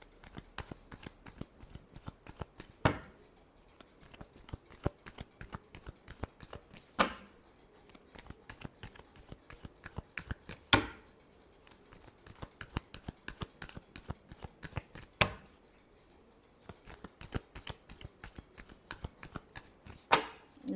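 Tarot cards being shuffled by hand over and over, crisp riffling bursts with a louder snap every few seconds in a regular rhythm, close and fairly quiet, with no talking.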